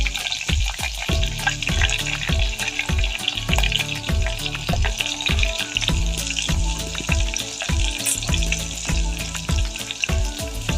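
Garlic and asafoetida sizzle steadily in hot oil in a pan, with dense crackling and popping throughout, close and loud.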